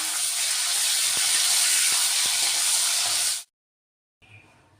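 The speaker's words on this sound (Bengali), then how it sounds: "লেজা মাথা দিয়ে একটু আমি কড়া করে একটু ভেজে নেবো এইভাবে" Hilsa fish head and tail fry in oil with a loud, continuous hissing sizzle and a few faint ticks, close up, stopping suddenly before a brief quieter return.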